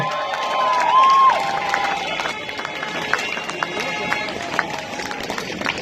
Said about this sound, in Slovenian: Dajmo en aplavz najprej